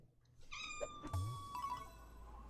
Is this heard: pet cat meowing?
yes